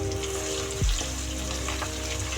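Onion with green and red chillies sizzles in a pan for pulihora, a steady hiss of frying close by, broken by a brief dull scrape or knock as the mixture is stirred.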